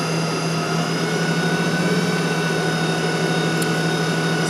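An electric pump motor runs at full flow, a steady, loud, continuous hum and whine with even tone throughout and no pauses.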